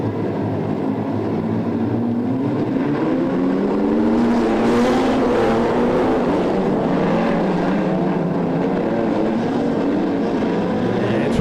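Wingless Sprint race cars roar around Lismore Speedway during a feature race, a loud continuous engine drone with rising and falling pitch as the pack passes, heard from trackside.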